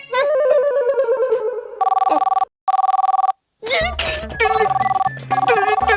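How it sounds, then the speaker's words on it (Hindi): A phone ringtone rings in repeated electronic bursts with short gaps, mixed with music and voices in a busy room. "फोन बज रहा है।"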